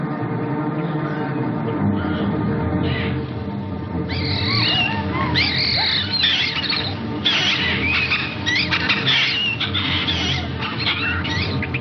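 Shrill animal and bird cries from a 1955 horror film, in which crazed birds and beasts attack a farm family, rise in repeated squeals and chirps over a steady, loud background rumble.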